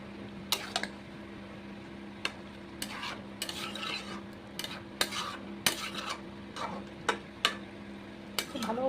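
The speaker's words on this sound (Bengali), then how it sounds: "খুব ভালো করে মিক্স করে নিয়েছি আমি।" Chicken being mixed with ground spice paste in a pan, a utensil scraping and clinking against the metal in irregular strokes over a steady low background hum, with a faint sizzle underneath.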